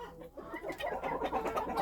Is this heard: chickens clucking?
yes